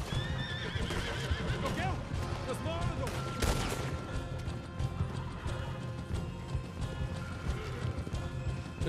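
Horse hooves clip-clopping at a steady run in the open-world game Red Dead Redemption 2, loud and continuous, mixed with neighs and whinnies, distant gunfire and someone talking over them.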